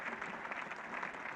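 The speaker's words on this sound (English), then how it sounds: "Very big crowd here, but most generous applause for Tony Greig" Applause from a very big cricket crowd at Lord's for Tony Greig during a 1977 Ashes Test, a steady distant wash of clapping, fairly faint and even throughout.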